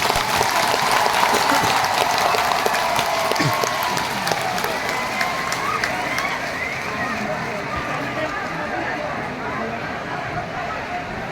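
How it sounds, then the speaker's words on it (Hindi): A crowd at a live show applauds loudly, with thick, steady clapping mixed with some cheering and murmur that lasts through the clip and eases slightly near the end. "सबसे बड़ा ताली आपको होना चाहिए।"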